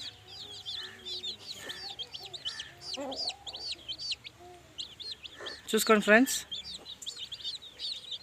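A Kathai breed rooster clucks and calls repeatedly near other fowl, with a loud, strained crow-like burst near the end, while someone speaks briefly over the birds.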